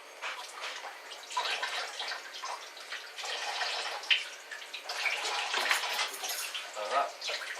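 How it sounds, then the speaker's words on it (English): Celery being washed under a running kitchen tap for a raw beef and vegetable soup, water splashing and gushing unevenly as the stalks are turned in the stream, steady and fairly close. "Alright, so I'll just wash this under the tap."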